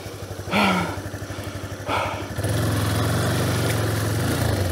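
On the muddy BR-319 jungle road, a heavily loaded motorcycle idles with a steady, close putter, then the engine revs up and holds a louder, even drone.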